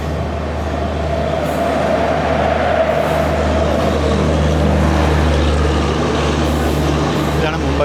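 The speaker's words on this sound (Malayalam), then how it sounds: "ഇതാണ് മുംബൈ സെൻട്രൽ ഓഖ സൗരാഷ്ട്ര മെയിൽ." Mumbai Central–Okha Saurashtra Mail express train running past with a steady, loud low rumble of wheels and carriages throughout, in a foggy Gujarat setting.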